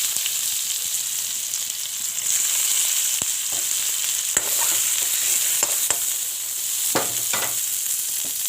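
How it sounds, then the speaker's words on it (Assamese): Onion frying in a pan while being stirred, a steady close sizzle with a few sharp scrapes and clicks of the spoon scattered through it. "এতিয়া ইয়াতে দি দিলোঁ আৰু পুনৰ ইয়াতে পিঁয়াজ দিলোঁ"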